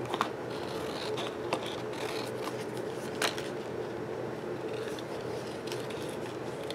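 Scissors fussy cutting paper around a shape, small irregular snips and crisp paper rustles close up, with faint scraping over a low room hum.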